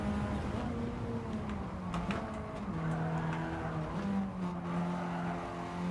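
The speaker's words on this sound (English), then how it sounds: "I'm going to brake as late as I can." A race car in a racing video game brakes hard into a hairpin at Alsace, its engine pitch dropping through downshifts, then rising and falling again under a continuous loud drone with faint tire squeal.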